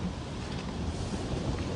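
Strong outdoor wind roars steadily and loudly against the microphone on a rainy roadside in Maharashtra, a constant broadband rush with no pause and no voices.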